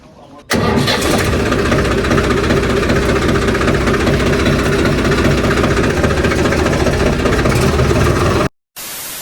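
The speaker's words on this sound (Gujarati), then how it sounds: "હાલો હવે પાછું ટ્રેક્ટર અંદર મેકી દઈએ" A tractor engine starts abruptly and runs loud and steady at close range while being driven inside, cutting out briefly near the end.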